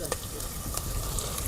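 Garlic and onion sizzle and fry in hot oil while being stirred in a pan, a steady crackling hiss with faint stirring scrapes, close and fairly quiet.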